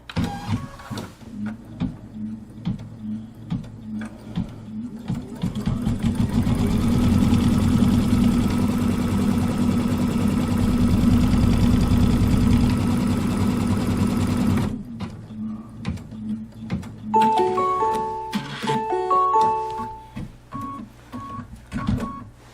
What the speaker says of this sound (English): let's stitch out the placement line for the batting